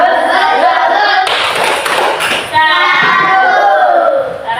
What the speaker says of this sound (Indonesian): Tepuk salut untuk kelompok 2.